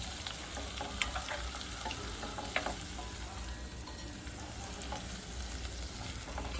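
Dry masala for stuffed brinjal curry sautéing in a pan, a steady close sizzle with scraping stirs and occasional sharp clicks of the spoon against the pan, no voices.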